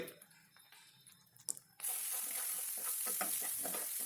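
Turmeric is stirred into frying masala brinjal, starting with a few scrapes and clinks before a steady, close sizzle of frying takes over and continues to the end.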